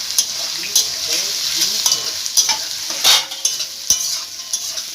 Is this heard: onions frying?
yes